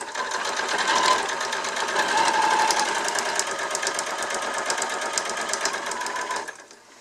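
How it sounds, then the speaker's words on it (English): A sewing machine back stitches a fabric face mask in a steady fast whirring run of close stitching that lasts several seconds before stopping abruptly. "I'm just going to do a little back stitch."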